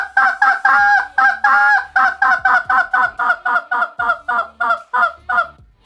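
A goose call blown loud and fast, a rapid run of about twenty sharp honks in steady rhythm, close and alone.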